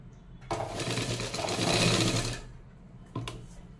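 A sewing machine runs close by in a fast whirring burst of about two seconds while stitching a strip for a katori blouse, then stops and gives one brief restart near the end.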